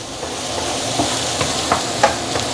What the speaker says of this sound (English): So you want to saute your fresh ingredient here, fresh herbs here, until it is really fragrant.